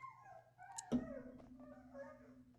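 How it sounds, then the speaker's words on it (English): A dog kept in a cage whines and whimpers in short, close rising cries, with a sharper yelp about a second in and then a softer trailing whine. "Why does she bring the fucking dog back down here, man?"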